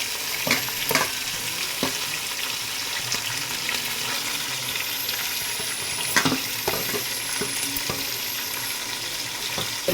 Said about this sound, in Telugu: అదిని ఫస్ట్ మనం ఉల్లిపాయలు బాగా వేపుతాం.